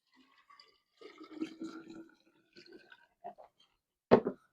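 Water poured into a jar for a homemade water kefir batch, heard as faint intermittent trickles and gurgles, then a short sharper splash near the end, quiet and close with no talk.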